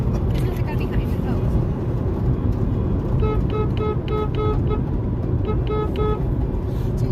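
Car horn honking in repeated short toots, amid steady road and traffic noise from a truckers' convoy on the Beltway near Hagerstown; two bursts of honks, fairly distant, over constant rumble.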